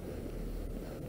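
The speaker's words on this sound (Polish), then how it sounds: "No wieje, fest." Wind roars steadily across the microphone outdoors on a mountain near Soszów, a constant low buffeting rumble with no break over the short stretch.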